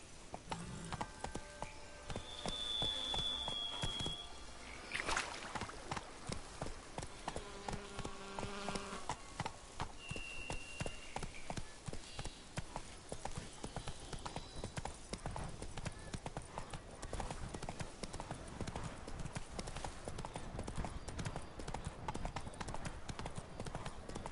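Horse hooves clip-clop in a steady, rhythmic trot in the video game The Witcher 3, set against a buzzing insect ambience.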